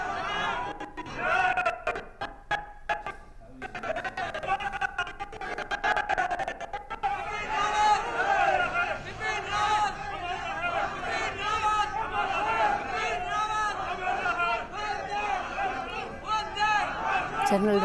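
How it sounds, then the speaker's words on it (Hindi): A large crowd at General Bipin Rawat's funeral procession chants patriotic slogans in waves, heard from within the throng amid continuous babble, shouting and general crowd noise. "जनरल रावत अमर रहे, भारत माता की जय, लगातार ये उद्घोष गूंजता हुआ, ये नारे गूंजते हुए।"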